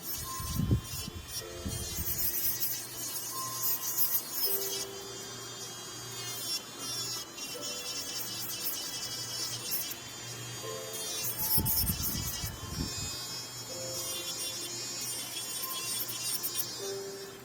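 An electric nail drill with its bit held flat files and smooths gel nails around the cuticle, a steady high-pitched whir that holds throughout with brief louder surges of grinding.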